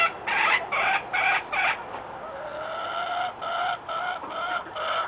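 A flock of chickens cluck and squawk in bursts, with rhythmic pulsing calls in the first two seconds followed by a steadier chorus of overlapping hen vocalizations close by.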